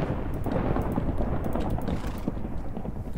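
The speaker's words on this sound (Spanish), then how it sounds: "Y la tormenta está fuerte." A loud Minecraft thunderstorm rumbles continuously with dense low crackling and pattering, a heavy storm texture filling the whole short stretch with no talking.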